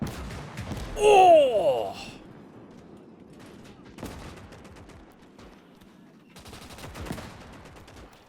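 Gunfire and artillery in a Gates of Hell: Ostfront city battle video game, as a tank is hit: scattered distant shots and booms with a loud impact burst early, under a commentator's voice and a brief exclamation.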